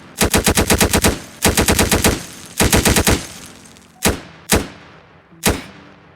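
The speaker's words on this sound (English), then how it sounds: "And then we can just start shooting him." Automatic gunfire in a Roblox FPS shooter game: three loud rapid bursts of about eight shots each, then three single spaced shots, close and sharp with no talking.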